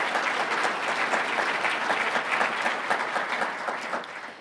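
An audience at a city State of the City address breaks into loud, sustained applause, a dense wash of many hands clapping that holds steady and then tapers slightly at the end.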